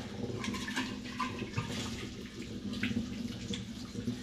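Tap water runs steadily into a basin during washing, a close, continuous splashing flow with small spatters and no talk.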